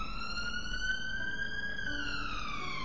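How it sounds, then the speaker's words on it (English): A London police siren wails steadily at night, a long rising and falling tone holding loud and close, with a slight pitch shift as it passes. "without the screeching of the police cars going past"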